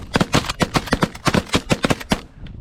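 Rapid sharp shots ring out in a quick cluster of about a dozen loud cracks at a pigeon hunt, shotgun blasts fired from close by in fast succession with no talk.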